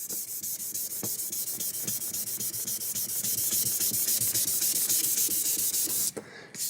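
Steady, continuous rubbing hiss of fine-grit sanding, working up to 3000 grit, on a sprayed lacquer finish over wood, sustained close-up with a brief break at the end.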